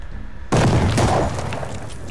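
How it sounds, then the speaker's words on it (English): A grenade goes off in a first-person war shooter: after a quiet half second, one sudden loud blast breaks into a heavy, rolling roar that slowly fades across the rest of the moment. "Oh, he threw a grenade."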